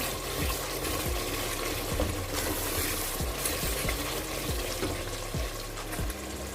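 Masala with whole dried coriander seeds sizzles in a pan for kadhi pakora while a spoon stirs it, a steady frying hiss punctuated by repeated scraping strokes at an irregular rhythm, close up and with no talking.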